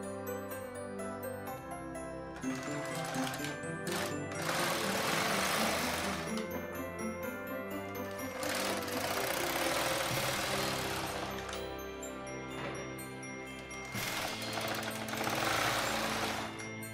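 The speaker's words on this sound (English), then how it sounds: "I needed to knit one row of plain knitting before I could start the ribbing." A bulky knitting machine carriage runs back and forth across the needle bed knitting plain rows, giving loud, continuous mechanical whirring and clattering in long sweeps with brief pauses between passes.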